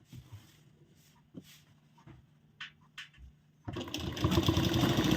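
A sewing machine stitching a shawl collar blouse: after a few quiet seconds of soft handling sounds, the motor kicks in for a loud, steady, close run of stitching to the end.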